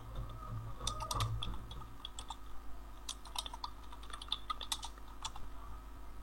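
Soft, irregular clatter of fingers typing on a computer keyboard, close but quiet, in uneven bursts of keystrokes over a low steady hum, with no talking.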